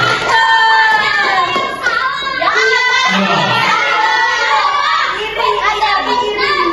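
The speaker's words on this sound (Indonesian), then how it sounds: "Beri tepuk tangan" A classroom group claps hands together during a school microteaching lesson, with children's voices talking and calling out loudly over the steady clapping throughout.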